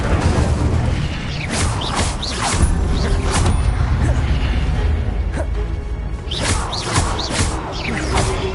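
Hogwarts Legacy combat with fire spells being cast: repeated loud whooshing bursts and booming impacts over a rumbling game soundscape, arriving in quick clusters with mechanical clatter between them.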